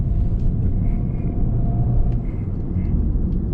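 Audi A3 e-tron interior while driving, a steady low road rumble and hum from inside the cabin, continuous and moderately loud with no talking.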